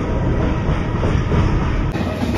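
A train rolls past a closed railway level crossing, a loud, close, continuous rumble of wheels and carriages with a steady rattling clatter throughout, and no talk.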